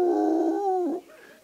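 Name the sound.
person imitating a beagle's howling bark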